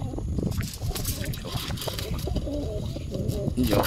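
Pigeons in a rose-pigeon loft cooing repeatedly during the rainy season, soft rolling coos rising and falling close by over a steady outdoor background with faint talk.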